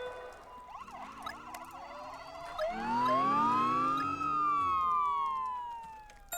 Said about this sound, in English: the cruiser goes out with Morton and Matty. And then finally we're gonna send out the ambulance with Maxie.